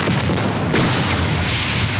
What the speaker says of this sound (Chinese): 只要地雷一响，就他娘的全力开火。